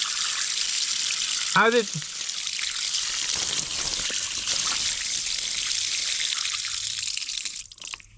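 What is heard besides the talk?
water trickling and pouring out inside an Åkerman EC-300 excavator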